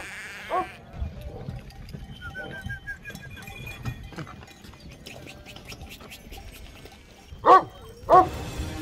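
Sheep flock at night, guarded by Kangal dogs, with a couple of loud bleats near the end over a low, busy rustle of livestock and fainter scattered calls earlier.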